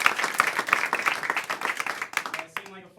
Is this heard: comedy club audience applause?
yes